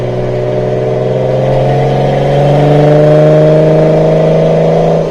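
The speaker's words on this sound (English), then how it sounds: "I hope you can hear me over the exhaust note here." A 1972 Datsun 240Z sports car engine drones loudly and steadily nearby through its exhaust, its tone rising slightly as the revs climb, then easing off.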